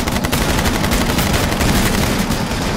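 Rapid, continuous gunfire from a video game fills the scene with loud, dense automatic bursts and no break.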